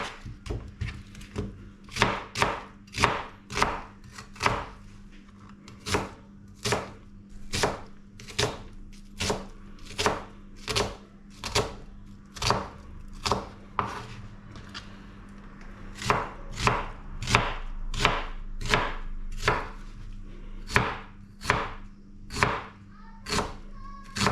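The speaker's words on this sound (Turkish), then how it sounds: "Önce soğanımızı doğruyoruz." A knife chops onion on a cutting board in a steady run of about thirty sharp, close, evenly spaced strikes, the pace quickening near the end, with no talking over it.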